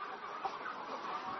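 Silkie chickens on a breeding farm cluck in a soft, continuous murmur from many birds at a distance, faint and without voices.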